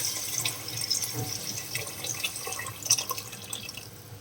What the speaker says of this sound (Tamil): இப்போ நம்ம புளி கரைச்சி வச்சிருக்கோம்ல அந்த தண்ணியை ஆட் பண்ணிக்கலாம்